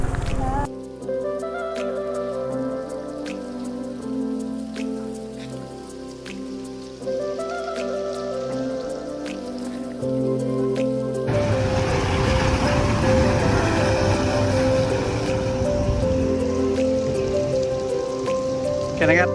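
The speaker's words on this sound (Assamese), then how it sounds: "এটা নিজৰা পানী পৰি আছে ওপৰৰ পৰা" Spring water in Longding, Arunachal Pradesh, pours down from above, building into a loud, steady splashing rush in the latter half after a quieter, humming opening.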